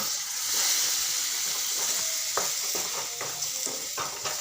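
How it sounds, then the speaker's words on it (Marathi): Chopped eggplant hits a hot pan and fries with a loud, steady hissing sizzle, dotted with small crackles and pops throughout. "तर आता मी वांगे सोडणार आहे"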